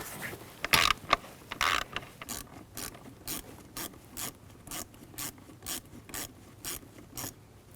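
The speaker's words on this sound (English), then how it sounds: "Loosen up that clamp." A 7mm socket ratchet loosens a hose clamp in the engine bay of a 2001-2009 Volvo S60, producing a steady run of close, crisp ratcheting clicks in even bursts after a few louder knocks, with no talk.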